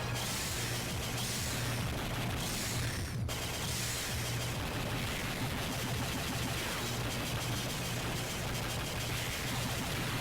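A mini-boss built as a wall of laser turrets fires in the Mega Man ZX Advent game. The result is a dense, continuous barrage of noisy, crackling blasts that stays loud throughout, with one sharp burst partway in.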